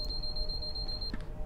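A cab warning beep inside a BR Class 460 train in the Train Simulator 2018 game sounds as a steady, high electronic tone for about a second before cutting off, over a low rumble of the moving train.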